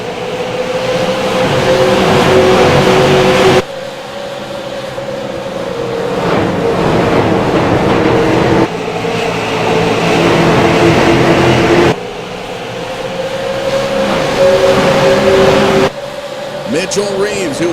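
Race cars in a bump-and-run all-star racing video game pulling away on a green-flag restart: a loud, continuous engine drone that climbs in pitch in repeated shifts, with a commentator talking over it throughout.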